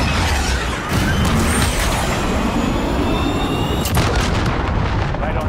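An artillery strike in Call of Duty Modern Warfare multiplayer pounds in as a dense, continuous barrage of booming impacts and rumble, loud and close, with whistling shells streaking overhead.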